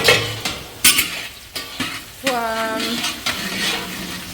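Onions being stirred in hot oil in a pan in a canteen kitchen, with scraping utensil strokes over a steady sizzle, up close and fairly loud.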